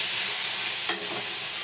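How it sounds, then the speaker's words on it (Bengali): Eggplant frying in hot oil with salt and turmeric, a steady loud hiss with one brief stir partway through, close and alone. "তেলের মধ্যে নুন হলুদ দিয়ে বেগুনটাকেও ভালো করে ভেজে নিলাম"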